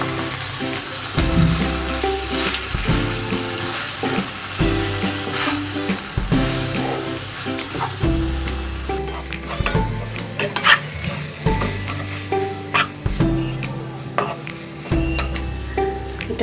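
Besan and dried banana are stirred into a frying pan, with loud continuous sizzling and spitting oil broken by repeated rhythmic scraping of a spoon against the pan, close up and without talk.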